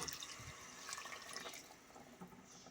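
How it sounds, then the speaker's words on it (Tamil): Water poured into a pot of mutton for a bone curry makes a continuous soft, splashy flow that runs briefly at low volume. "நம்ம மட்டன் வச்சு தண்ணியை ஆட் பண்ணிக்கலாம்."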